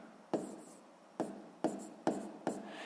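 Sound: writing numbers down while solving a fraction problem

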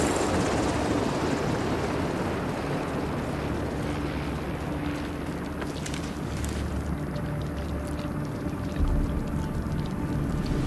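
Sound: helicopter flying over the Potomac in video game The Division 2

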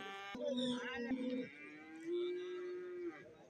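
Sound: cattle calves at a buffalo market

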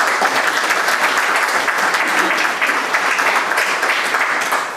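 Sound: audience applause

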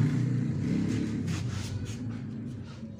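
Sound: kick-starting Yamaha Jupiter MX motorcycle engine, spark plug removed

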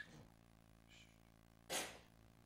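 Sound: sneeze

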